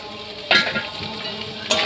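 Potatoes and onions sizzle steadily in a hot pan, a continuous crackling fry with two brief louder bursts as the food is stirred or tossed.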